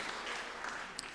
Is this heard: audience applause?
yes